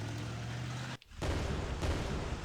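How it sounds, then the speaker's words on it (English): An AI-controlled tank fires a shot in a video game: a sharp cutoff followed by a loud, booming cannon blast that rumbles on over steady background game noise. "Now it's going to shoot me"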